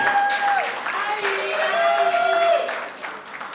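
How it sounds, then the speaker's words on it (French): Awards ceremony audience applauding, a dense wash of clapping from a crowd with a sustained musical tone running beneath it, fading near the end. "On applaudit bien fort."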